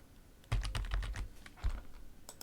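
Fingers type on a computer keyboard in a quick burst of close, crisp key clicks, then pause and add a few scattered taps.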